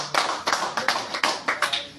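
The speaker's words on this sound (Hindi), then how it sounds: "बेस्ट बैट्समैन भी है, जोरदार तालियां इनके लिए।" Audience members at a cricket club's annual awards ceremony clap in sharp, evenly spaced claps, close and fairly loud, for about two seconds with almost no talk over them.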